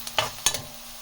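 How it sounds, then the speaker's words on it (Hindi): Onions frying slowly on a low flame for a soya keema, a soft steady sizzle broken by two or three brief clinks and scrapes of a stirring spoon against the pan. "ये प्याज जो है मैंने स्लो स्लो फ्लेम पे इसको फ्राई करती जा रही हूँ।"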